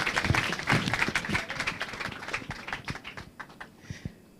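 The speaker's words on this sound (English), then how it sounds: "A round of applause, please." Applause from an audience at an International Women's Day celebration at the Bank of Industry, a burst of clapping that thins out into scattered claps and fades toward the end.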